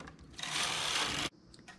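A knitting machine carriage, knitting rows of yarn for a one-finger glove, slides across the needle bed with a brief rasping whirr of just under a second that stops abruptly, followed by faint clicks.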